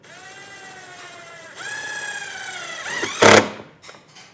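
A power drill whirs with a rising whine, pausing and starting again, before a brief harsh burst as it drives a self-tapping screw into automotive sheet metal beside a trailer wiring module box.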